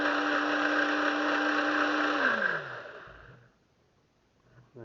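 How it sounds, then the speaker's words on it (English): A countertop blender runs loud and steady, whirring a silica drink mixed with Volvic water, then winds down to silence, and a faint clatter follows at the end. "stick the lid on and blend it up, and then just drink it basically"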